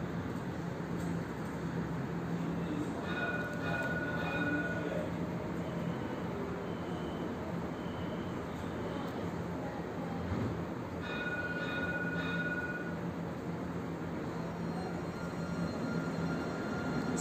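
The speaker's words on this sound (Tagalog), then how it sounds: "tram na yun paalis na" A Dubai tram departing a station rumbles steadily nearby, wheels rolling with occasional high squeals and tonal whines as it moves along the track.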